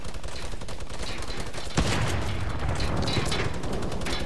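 Rapid video game gunfire in a playground session, a dense stream of shots with a sharp, louder burst partway through, continuing steadily to the end.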